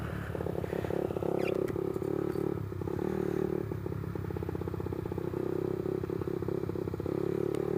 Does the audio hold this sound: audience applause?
no